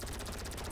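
A helicopter-mounted gun fires in the GTA 5 video game: a rapid, even burst of close, dense shots rattling continuously throughout.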